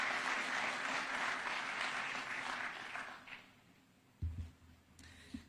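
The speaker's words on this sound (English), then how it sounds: "Let's welcome her with a clap." Audience applause welcoming a speaker at a closing ceremony at State House, Kenya: a dense, steady wash of many hands clapping that fades out after about three seconds, followed by a few low thumps and handling noises.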